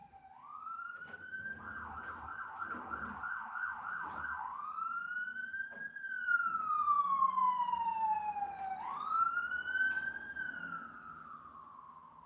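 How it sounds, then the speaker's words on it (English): Emergency vehicle sirens wail and yelp with rapid warbling, then a long rising and falling tone, loud and fairly near over light background noise. "sorry about the sirens."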